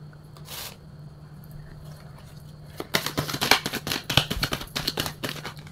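Tarot cards being shuffled and split into two piles, a burst of quick dry riffling flicks and rustles after a quieter stretch with a faint steady hum, close and fairly soft.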